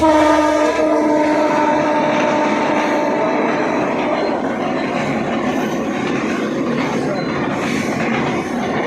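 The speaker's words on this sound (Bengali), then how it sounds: "এই যে ট্রেন চলে যাচ্ছে আমাদের সিলেটে" A train bound for Sylhet rumbles steadily past nearby, its horn sounding loudly at the start over the continuous clatter of wheels and carriages.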